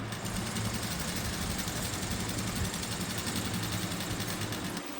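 Sewing machine stitching palazzo pants, a loud continuous mechanical whirr and rapid needle chatter running steadily almost to the end, close up and alone.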